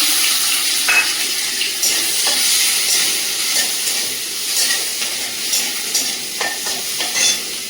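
Chopped onion hits hot oil left over from frying chicken, giving a loud, steady sizzle and hiss with occasional scraping stirs close by and no voices.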